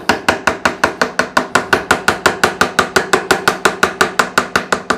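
Hammer tapping wooden pins into a handmade wooden box, a steady run of about twenty-five evenly spaced, crisp knocks, close and fairly loud with no talking.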